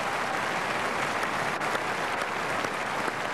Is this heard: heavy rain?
no